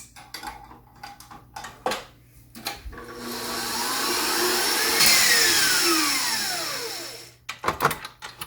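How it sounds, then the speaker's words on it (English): An electric mixer whisks five egg whites with sugar for a tiramisu torte, a steady whirring hum swelling and easing over several seconds, with clattering against the bowl at the start and end. "So we take our 5 egg whites and our other 30 grams of sugar. And we're just going to whisk that up"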